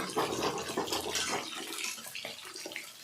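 Water running and trickling off washed cabbage draining in a basket, a close, continuous splashing patter that eases off toward the end, with no talk over it.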